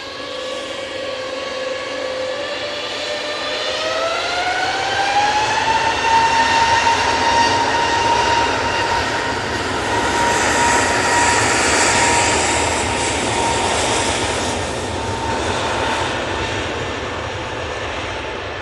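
Airbus A321neo jet engines whine loudly and close, with rising tones that climb and then settle into a sustained roar and broad rushing noise.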